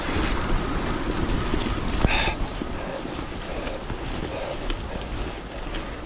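Swollen Chérin river, normally a small stream, rushing in flood after heavy rains; a steady, loud broadband roar of churning water, mixed with wind buffeting the microphone, continuous throughout.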